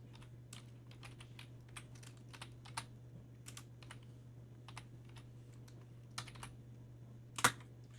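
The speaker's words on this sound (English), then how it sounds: "I'm going to go ahead and type in my original equations" Equations are keyed into a calculator as a string of faint, sparse key taps at an irregular pace over a steady low hum, ending with one louder click.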